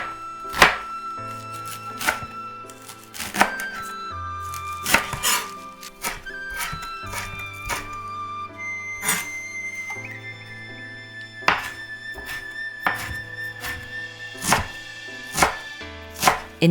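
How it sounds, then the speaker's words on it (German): Knife chopping wild garlic leaves on a board, a rapid run of sharp, close taps with brief pauses between bursts, steady and fairly loud over a low hum. "Klein schneiden."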